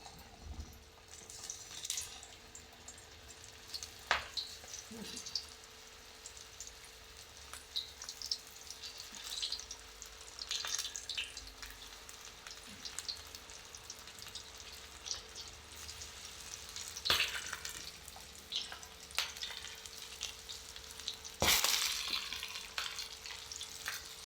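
Corn bhaji fritters fry in hot oil with a steady sizzle and occasional crackling bursts and stirring clinks.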